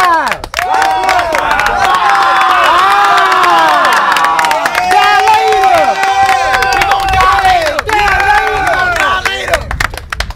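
A loud crowd cheers and shouts continuously at a CrossFit versus calisthenics fitness battle, with whoops, claps and excited voices forming a dense, steady roar throughout.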